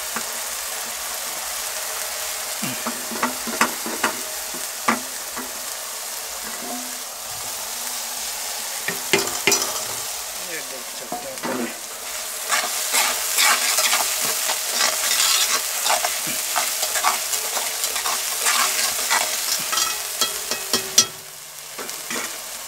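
Grated onion frying in a pan for lauki kofta, a steady sizzle with intermittent stirring scrapes and utensil taps that grow busier midway, ending with a sharp knock, no speech.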